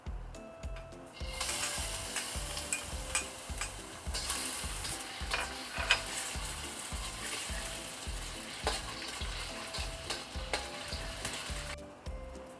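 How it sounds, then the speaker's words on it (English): Lard deep-frying in heated oil, a steady dense sizzle with constant crackle and the rhythmic scrape of stirring throughout, close and loud with no talk. "So that's how the lard has been deep fried"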